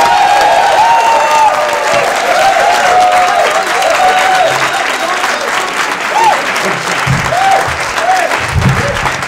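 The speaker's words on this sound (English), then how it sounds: "Please, a nice round of applause" Loud, sustained studio audience applause for comedian Jonathan Katz at a 1986 cable comedy show, dense clapping throughout with a few whoops and a voice speaking over it near the end.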